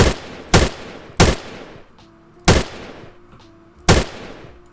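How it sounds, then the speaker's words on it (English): Gunfire from a gun system in a Roblox video game: five loud, sharp reports spaced unevenly, each fading with a short tail, with faint mechanical clicks between some shots. "Burst fire mode, as well as single fire."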